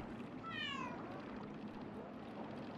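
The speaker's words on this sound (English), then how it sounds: "Kitty!" A cat in the video game Boti Byteland Overclocked gives a single clear meow over a steady hum of game ambience.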